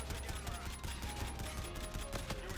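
Sustained rapid automatic gunfire from a light machine gun in the video game Call of Duty: Infinite Warfare, loud and continuous bursts with dense overlapping shots throughout.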